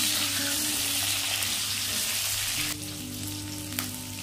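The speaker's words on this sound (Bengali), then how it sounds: "মাছ ভাজা তেলেই দিয়ে দেব আলু।" Cut potatoes fry in the oil left over from frying fish, a loud close sizzle that briefly drops in intensity partway through, with light stirring and a small clink near the end, no speech.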